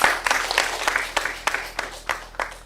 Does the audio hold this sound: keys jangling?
no